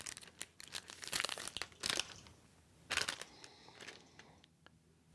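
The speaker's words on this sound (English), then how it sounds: "Let's unwrap the rest of the device." Plastic wrap is peeled from an Amazon Kindle Fire tablet, close crinkling and tearing in irregular bursts, with a few louder crackling pulls.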